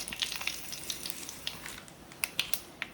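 Mustard seeds, urad dal and dried chillies fry in hot coconut oil for a Kerala squid stir fry, giving a soft continuous sizzle broken by sharp popping crackles that come in scattered bursts, close and moderately loud.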